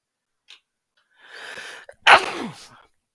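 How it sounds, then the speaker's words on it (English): A single sharp sneeze bursts out loud and close, preceded by a short breathy intake and followed by a brief fading exhale. "Get that sneeze out of the way."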